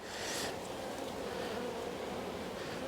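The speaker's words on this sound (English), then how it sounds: "there's a lot of bees in here covering something" Honey bees drone in a dense, continuous buzz at an open beehive in an apiary, a close, steady hum with no voices over it.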